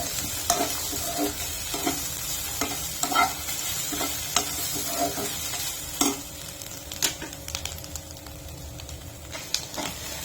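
Grated coconut sautés in a pan for a curry, a constant soft sizzle with a spoon scraping and stirring in irregular taps, close and steady without talk.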